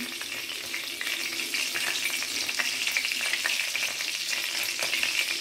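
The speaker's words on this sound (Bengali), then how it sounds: "আমরা কড়াতে সামান্য দারচিনি, লবঙ্গ আর এলাচ ফোড়ন দিয়ে দিলাম।" Cinnamon, cloves and cardamom spit and crackle in hot oil in a kadai, a dense, continuous close sizzle with small pops throughout and no talking.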